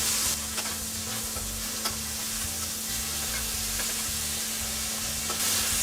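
Flank steak pieces sear in butter in a hot pan, giving a loud, dense, continuous sizzle with scattered pops and spatters, no voices over it.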